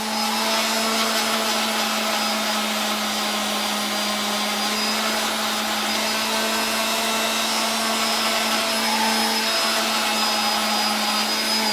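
Electric sander running across a large carved wooden baseball glove trophy, a continuous steady whirring drone with abrasive hiss that holds level and close for the whole stretch, with no talking.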